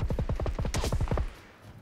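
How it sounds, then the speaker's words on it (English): Gunfire in PUBG during a duos match: a rapid run of about a dozen sharp, loud shots in quick rhythm that stops abruptly after just over a second. "I'm getting shot at by a big one."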